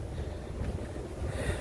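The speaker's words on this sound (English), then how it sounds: "It is very windy." Steady wind gusts out on a cruise ship deck, a broad continuous rush that buffets the microphone without a break and carries no talking.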